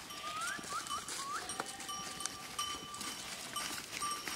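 Sheep wearing cowbells move along a forest path, their bells clanking irregularly amid steady outdoor noise, with a few faint bleats and no talk.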